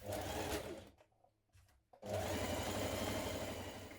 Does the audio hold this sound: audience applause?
no